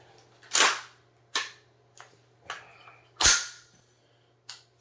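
Rifle shots from a Noveske rifle at an outdoor shooting range on a rainy day, six sharp reports at irregular intervals with some louder and some softer, heard at close to moderate distance over a low steady hum.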